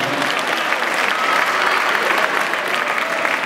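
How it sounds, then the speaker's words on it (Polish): Crowd applause in an indoor arena at an international futsal match between Poland and Moldova, a loud continuous roar of clapping from many spectators that holds steady for the whole stretch. "i duże brawa Edward Hodera."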